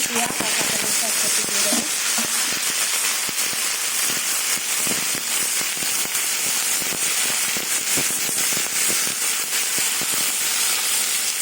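Carrot and bitter gourd hit hot mustard oil in a wok with crushed mustard seeds, giving a loud, dense crackling sizzle that holds steady throughout with sharp pops scattered through it.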